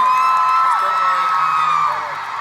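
A concert crowd in Sydney cheering in a sustained, loud, high-pitched roar of voices that swells and holds throughout, with whoops rising above the mass.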